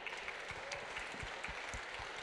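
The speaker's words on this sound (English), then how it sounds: "Round of applause." Audience applause at a startup demo day event, a steady continuous wash of many hands clapping with no voices on top.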